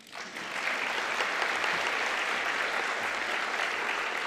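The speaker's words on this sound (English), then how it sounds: "You can clap again." An audience applauds at a University of Galway winter conferring ceremony, a dense, steady clapping that swells in quickly and holds evenly throughout, heard from a slight distance.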